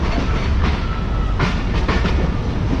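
Mohen Jo Daro passenger train on the Sukkur route rumbling steadily along the rails, a continuous loud close roar from onboard with faint rhythmic clatter and no voices.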